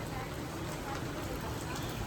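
Steady rain falls outside a home during a rainy day, a constant broadband hiss of drops with no breaks, moderately loud and evenly spread throughout.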